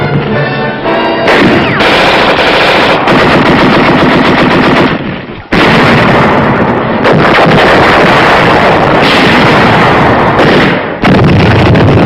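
Sustained machine gun fire in WWII Pacific combat at Los Negros, loud and dense bursts rattling almost continuously with brief gaps, alone without speech.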